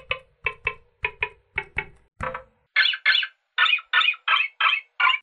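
A budget electronic keyboard plays a weird squawking sound effect that resembles scratchy birds or a scratched deck, repeating in rapid, evenly spaced bursts, first choppy and then brighter and louder.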